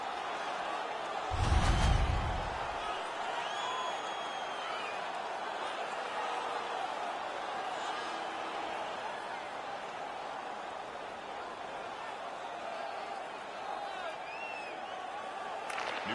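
Arena crowd noise from a home crowd in an ice hockey video game, a steady roar of cheering and chatter running through the whole stretch, with a brief louder thump near the start.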